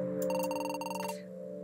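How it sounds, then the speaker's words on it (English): Telephone bell ringtone trilling in quick repeated bursts for about a second over a steady electronic hum, then cutting off, fairly close with no talk. "why you always ringing when I'm taking the video?"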